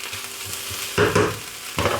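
A spiced mixture for Mexican lasagne sizzles in a pan while a spoon stirs it, a steady close frying hiss with a few louder scraping surges.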